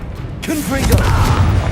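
A Confringo blasting spell erupts in Hogwarts Legacy, a sudden broadband burst that rolls into a sustained low rumble with tonal magical swirls, amid loud game effects.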